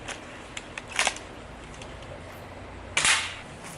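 Two sharp snaps from an ASG McMillan M40A3 airsoft sniper rifle firing at cans, spaced about two seconds apart, close and crisp with faint clicks between shots.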